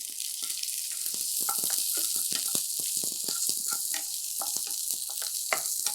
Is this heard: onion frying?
yes